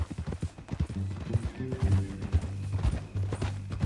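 Horse hooves clip-clop in an uneven rhythm close by in the video game Red Dead Redemption 2, with a low tonal hum and faint voices mixed in.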